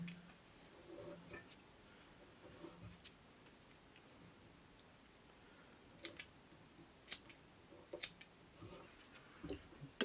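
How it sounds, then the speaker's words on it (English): Small scissors trim overlong fibers on a fly-tying jig, producing faint, sparse snips and ticks, a few clustered together near the end, close and quiet with no talking. "Don't need to trim much, just any fibers that are too long really."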